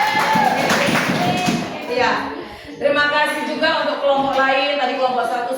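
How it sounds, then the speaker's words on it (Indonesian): A classroom group claps in a teaching session, with scattered hand claps rising and falling over about five seconds while several voices talk and chatter over them. "Ayo tepuk tangan, tepuk tangan."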